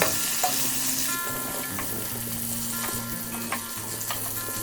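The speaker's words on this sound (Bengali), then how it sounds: "এঁচোড় খুব বেশি ভাজবো না, হালকা ভেজে নিয়ে উঠিয়ে নেব।" Pieces of raw jackfruit fry in hot oil, a steady dense sizzle with a few stirring scrapes and clinks on top, close and continuous with no voices.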